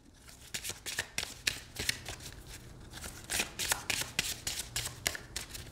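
Crisp, rapid riffling of a tarot deck being shuffled, bursts of flicking repeated several times in a row, close and fairly quiet, no voices.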